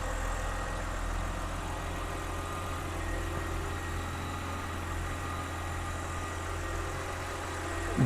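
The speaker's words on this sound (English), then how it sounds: "smooth running engine" A 2011 BMW 328i convertible engine idles smoothly and steadily, a low even rumble with a faint hum, continuous and unchanging throughout.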